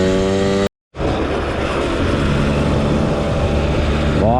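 A Mobylette moped fitted with a competition variator, engine revving hard and steady at high pitch after a brief dropout, loud and close, no talking.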